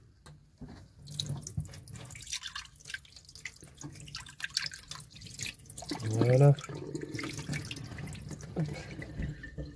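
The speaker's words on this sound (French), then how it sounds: "Voilà, je rince." Tap water runs and splashes while a camping-car filter bowl is rinsed under it, a steady close stream with clinks and a brief louder gush, while a person speaks briefly.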